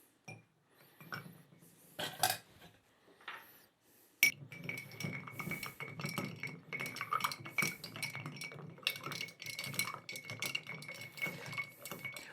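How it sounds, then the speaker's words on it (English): An ice cube stirred inside a pickleback cocktail glass gives repeated light clinks and scrapes, nearby and fairly quiet, with a busier run of tinkling in the second half. "We're going to use 1 big cube, and we're going to give that a stir to chill it down."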